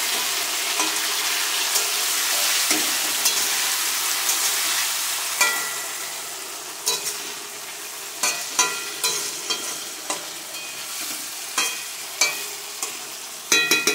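Bengali fish pieces frying in mustard sauce in a pan, with a loud, constant sizzle. Partway through, a spoon starts stirring, adding sharp, repeated scraping knocks over the hiss.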